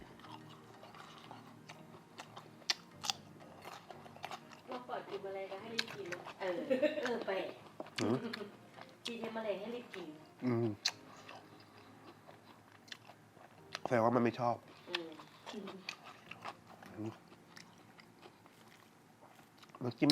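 Crispy fried red meatballs, hard and crunchy outside and soft inside, are bitten and chewed up close in irregular bursts of crunching and wet mastication, with quiet mouth sounds between bites.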